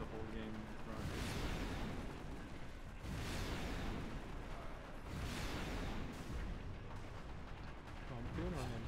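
Rocket explosions in a video game land as repeated heavy, rumbling blasts about every two seconds, fairly faint, with players talking in between.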